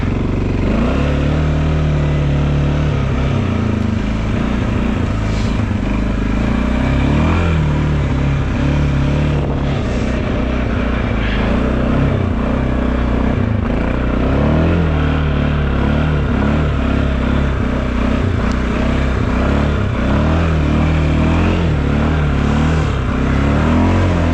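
Kymco MXU 550 ATV engine revving hard while climbing a forest slope, a loud, close, sustained mid-pitched drone with rising and falling throttle surges throughout.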